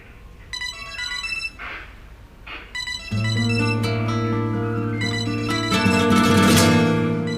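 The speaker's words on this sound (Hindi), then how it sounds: "किसकी है? सीना का फोन है भाई।" A mobile phone rings with a loud, bright melodic ringtone that repeats and swells, heard alone with no talk over it.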